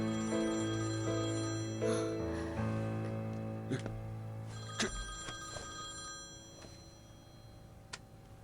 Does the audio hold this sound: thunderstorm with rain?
no